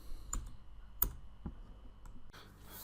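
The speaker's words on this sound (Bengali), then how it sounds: "এন্টার চাপলাম" Sharp keystrokes on a computer keyboard, including the Enter key, come as a few separate, spaced-out clicks in a quiet room, with no talking.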